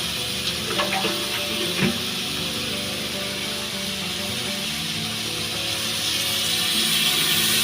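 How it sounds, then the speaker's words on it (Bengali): Water is poured into a simmering curry in a pan, a brief splash at the start giving way to continuous sizzling and bubbling that stays steady and close. "এবার আমি সামান্য একটু জল দিয়ে দেবো, একটু সিদ্ধ হওয়ার জন্যে সামান্য একটু জল দিয়ে দিচ্ছি"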